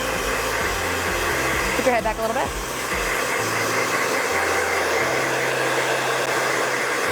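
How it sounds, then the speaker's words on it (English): A hair dryer blows out wet hair with a loud, steady roar that continues unbroken; a person speaks briefly over it. "you really need to use your hair dryer. So I'm going to blow this out real fast."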